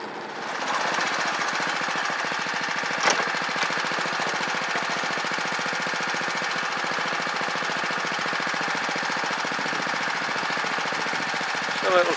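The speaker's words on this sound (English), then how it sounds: "You see I've engaged the clutch, so now that the cutting blades will spin" A small petrol engine on a verticutter runs steadily with its clutch engaged, making a fast, even rattling chug at moderate loudness that continues for the whole stretch, with one brief knock near the start and no talking.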